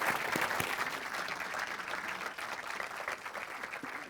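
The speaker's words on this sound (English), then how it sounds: "Let's have a round of applause for Paul." Audience applause at a tech conference talk for the speaker Paul, a dense, steady clatter of many hands clapping throughout, fairly loud and close, easing slightly toward the end.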